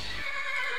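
A horse or donkey in Minecraft lets out a short, clear whinny that rises and wavers for under a second, close and alone.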